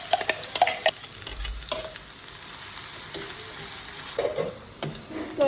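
Finely chopped onions sizzle in hot oil with two or three cloves and a piece of cinnamon, a steady close frying hiss broken by a few louder stirring scrapes and crackles, with no voices.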